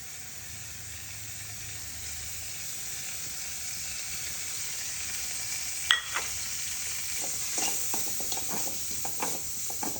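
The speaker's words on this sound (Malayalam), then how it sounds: "നെയ്യ് ചൂടാകുമ്പോൾ ഞാൻ തേങ്ങ ഇട്ട് കൊടുക്കുന്നുണ്ട്" Grated coconut sizzles steadily in hot ghee while a beaten-rice and sesame sweet is being made, a faint, even frying hiss with a few clinks and stirring scrapes in the second half.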